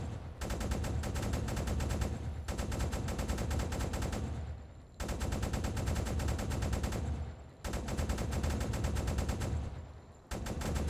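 Sustained rapid gunfire from a submarine's deck guns and flak in the naval video game UBOAT, aimed at a merchant ship, loud continuous bursts broken by brief pauses, with no talk over them.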